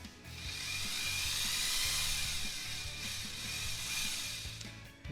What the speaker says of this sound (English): So I'm going to go ahead and just pre-drill this fin here.